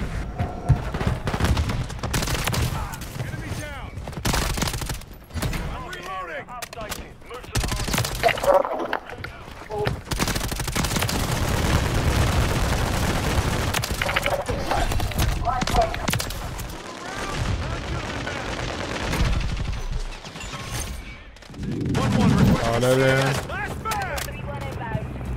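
RAM-7 assault rifle fire in Modern Warfare 3 comes as repeated close bursts and rattling volleys over about twenty-five seconds, mixed with game effects and someone talking over it.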